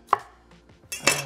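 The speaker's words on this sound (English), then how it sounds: "I'm gonna chop them into cubes." A knife cuts peppers into cubes on a board in a takeaway-style kitchen. Two sharp, close chops stand out, one early and one near the end, with light tapping between them.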